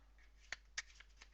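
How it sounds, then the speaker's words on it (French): A deck of playing cards is shuffled during a magic trick, giving two quick crisp riffling bursts followed by fainter flicks, close and quiet with no talk. "le paquet peut être mélangé, on peut mélanger un peu"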